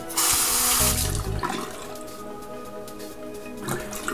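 A double-edged razor is rinsed under a running bathroom tap, a loud close gush of water that softens to a steady trickle and splashing, then swells again briefly near the end, with no talk.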